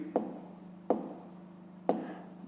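Numbers written by hand during a math lesson: three separate short tapping strokes spaced about a second apart, faint and close, over a low steady hum.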